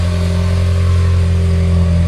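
A 4th-generation Toyota Tacoma TRD Pro four-cylinder engine with TRD exhaust idles at a steady drone after a cold start, loud and close with no speech.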